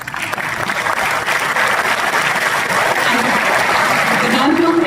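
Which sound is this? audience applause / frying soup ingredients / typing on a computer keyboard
audience applause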